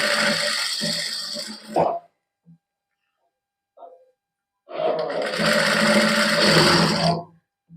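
A sewing machine stitches lace onto a dupatta, running in two loud sustained bursts separated by a quiet pause with a couple of faint clicks.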